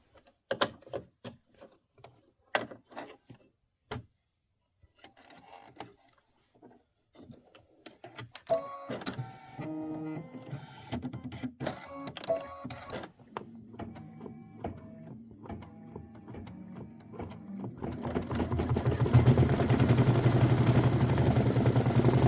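An embroidery machine stitching out a Kimberbell mini quilt block, starting with sparse sharp clicks and thumps, then settling into a rapid rhythmic mechanical chatter that grows louder and denser toward the end.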